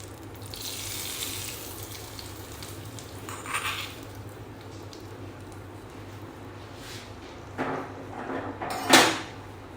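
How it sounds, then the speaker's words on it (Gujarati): Hot spiced tempering is poured into dal khichdi, giving a few short hissing sizzle bursts with faint clinks over a low, steady kitchen background. "હવે આ તૈયાર કરેલો વઘાર આપણે અડધો છે એ અંદર રેડી દઈશું"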